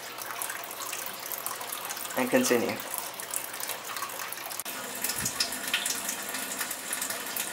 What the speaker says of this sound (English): if you find this stone is drying off, just put a little water in it